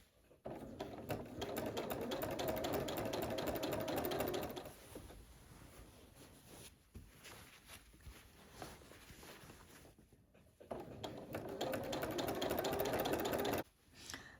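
A sewing machine quilting runs in fast, steady bursts of stitching, pausing for a few seconds in between, close and fairly quiet.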